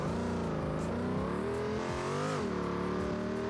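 A tuned car with a modified engine and transmission accelerating in BeamNG.drive, its engine droning and rising through the gears with a strained, steady whine that stays loud and continuous throughout.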